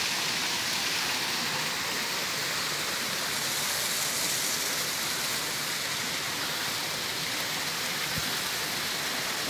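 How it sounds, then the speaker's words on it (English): Artificial waterfall cascading at the back of Souk Al Bahar near the Dubai Mall and Burj Khalifa, a steady, dense rush of falling water heard close and continuous with no talk over it. "backside waterfalls"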